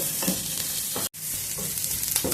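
Carrots for a carrot chutney fry in a pan with a continuous close sizzle, broken by a brief silent gap partway through, with stirring scrapes and no speech.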